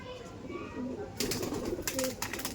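Restless Andhra pigeons in a loft, with soft coos and wing flutters and scuffling up close, including a burst of flapping partway through, under low background noise.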